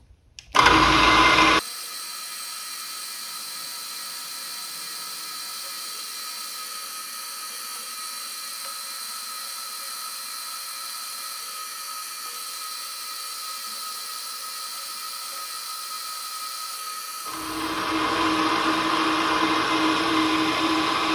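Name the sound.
drilling holes in brass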